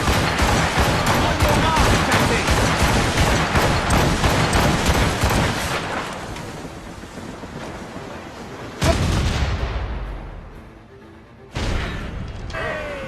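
Naval cannons from a ship in Assassin's Creed Rogue roar in a loud, dense volley, then two more heavy booms follow with rumbling decays, a voice barely rising beneath the blasts.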